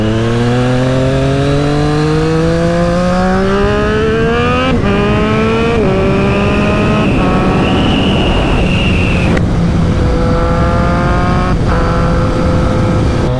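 A Triumph Street Triple 765 RS motorcycle with an aftermarket Spark exhaust revs hard through repeated gear changes, the loud rasping note climbing, dropping and climbing again, very close with no talking.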